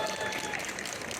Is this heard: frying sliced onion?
no